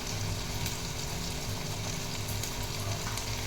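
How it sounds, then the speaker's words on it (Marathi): Garlic, chopped onion and tomato frying in oil in a pan make a soft, steady sizzle. It is faint and continuous, with no talking. "लसूण चांगला परतला की बारीक केलेला कांदा आणि टोमॅटो घालायचा."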